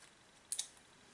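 Scissors snip through seaweed for a craft mask, two quick faint cuts in close succession against near silence.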